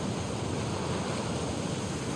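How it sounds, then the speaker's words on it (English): A fast-flowing torrent of water from the video game The Last of Us Part II rushes with a dense, steady roar that fills the whole moment, loud and unbroken, with no voices. "the player was faced with a fast-flowing torrent of water they couldn't cross"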